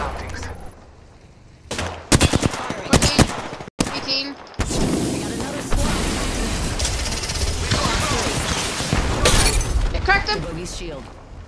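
Gunfire erupts in Apex Legends in sharp bursts of rapid shots and shattering impacts, loud and close. Silent gaps break it at first, then a sustained chaotic barrage follows, mixed with game voices and a player talking.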